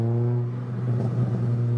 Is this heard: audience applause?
no